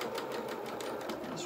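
A sewing machine runs a steady continuous stitch down the leg seam of a doll's cat bloomers, a close, even mechanical whir.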